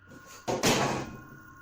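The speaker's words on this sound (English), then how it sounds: "the door continues swinging open and closed" A door swings open and shut in a quiet room, giving one soft bump followed by a louder thud and a fading rattle, close by with no voices.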